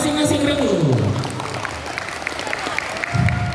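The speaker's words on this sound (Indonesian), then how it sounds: "Berikan tepuk tangan yang meriah untuk masing-masing Ragu." Audience applause at a Quran quiz competition for girls, a burst of clapping from the hall under a host's amplified voice, fairly close and loud, fading slightly mid-clip before rising again.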